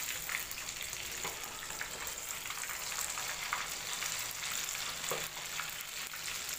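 Fish coated in masala fries in a pan, a steady, close, broadband sizzle with crackling spits throughout and no voices.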